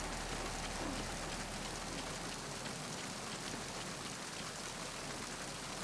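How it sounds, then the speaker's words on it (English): Steady, faint rainfall in the Metal Gear Solid 2 video game, a soft continuous hiss of raindrops with no voices over it. "Oh, it's back to raining."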